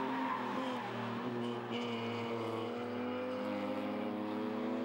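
A BMW race car in the Open Class at Hampton Downs powers out of the final corner, its engine holding a loud, sustained, buzzing note with slightly climbing harmonics and a steady roar throughout.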